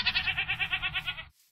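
A goat bleats in a survival video game, a rhythmic series of about eleven wavering, nasal pulses in quick succession, loud and close, with no talking over it, ending abruptly in silence.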